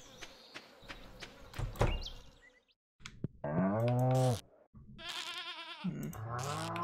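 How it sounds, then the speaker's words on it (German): Goat bleating from the farm in the video game Stardew Valley, a few drawn-out harmonic bleats after soft footsteps and clicks, fairly close and moderately loud with no talking. "Ich glaube, die Ziege hat heute sowieso nicht wirklich was."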